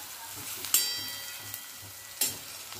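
Garlic roasting in a pan over low heat for garlic chutney gives a soft, steady sizzle, broken by two sharp clacks of stirring close by.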